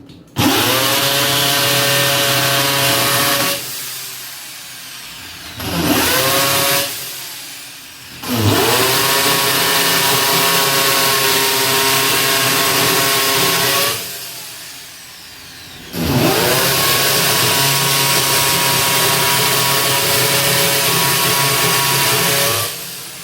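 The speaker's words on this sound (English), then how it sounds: "I'm going to drill those right now." A power drill drives three screws into a piece of wood for budget DIY kitchen cabinets, each run a loud, steady whine with the motor pitch dropping under load, separated by short pauses, close up with no talking.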